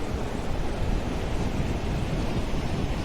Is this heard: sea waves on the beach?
yes